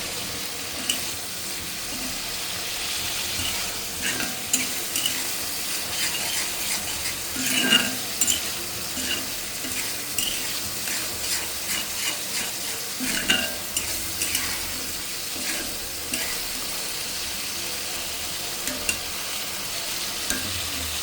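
Spices being fried together with dried fish (shutki) from Cox's Bazar in a pan, a steady sizzle with repeated stirring scrapes and a few louder clatters over about twenty seconds, with no voices.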